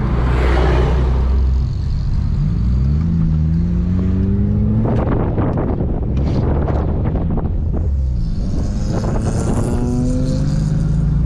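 Car engine revving hard with sharp pops and crackles from the exhaust, loud and close, over steady wind noise on the microphone.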